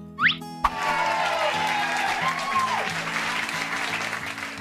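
An animated scene with a crowd's round of applause, dense clapping that starts suddenly after a short whistle-like blip and holds steady throughout, with a faint sliding tone over it and no talking.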